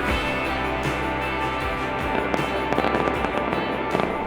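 Midnight fireworks over the Italian Riviera in Liguria, a dense run of booms and sharp crackling bursts, some near and loud, others echoing farther off, with no talk.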